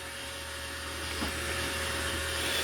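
An iRobot Roomba robot vacuum runs nearby with a steady, whining motor hum and airy suction noise, holding a constant level throughout with no talk.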